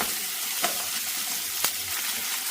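Onions for a tomato chutney sauté in a pan with a soft, steady sizzle, broken by two brief scrapes of a spoon, close and quiet with no voices.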